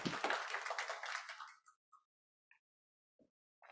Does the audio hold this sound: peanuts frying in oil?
no